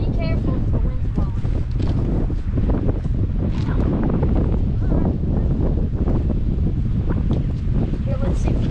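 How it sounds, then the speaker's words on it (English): Strong wind at a beach at Fort Fisher, North Carolina, buffets the microphone in loud continuous rumbling gusts with surf underneath, and voices come through faintly now and then. "The wind's blowing so hard, it just blew it out of his hand."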